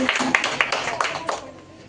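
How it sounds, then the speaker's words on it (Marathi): An audience at a quiz event claps in a short burst of scattered hand claps that thins out and fades within about two seconds. "त्याच्यानंतर समता गटाला 30 गुण मिळालेले आहेत. टाळ्या वाजवा रे."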